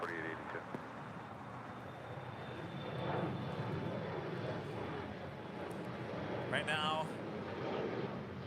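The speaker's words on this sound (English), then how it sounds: "looks like the SAS heading to the north side for a departure" Distant jet airliner engine noise of an SAS departure at LAX, a steady broad roar throughout with voices talking over it and a brief radio-like chirp near the end.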